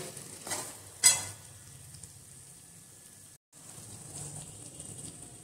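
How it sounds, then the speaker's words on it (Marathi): Onion and potato pieces sauté in a pan for a potato curry, a soft steady sizzle with a sharp clatter of stirring near one second and a brief dropout past the middle. "तर या फोडी कांद्याच्या आणि बटाट्याच्या याच्यामध्ये चांगल्या परतून द्याव्या"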